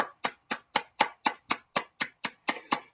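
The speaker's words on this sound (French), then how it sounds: "Bon, d'applaudissements, s'il vous plaît," Single person clapping on a Zoom call, about a dozen crisp, evenly spaced claps in steady rhythm, close to the microphone with no other sound.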